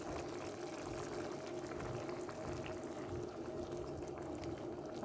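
Boiling water pours into a cooking pot with tomato paste, making a soft, steady rushing hiss that stays faint and even throughout, with no voices.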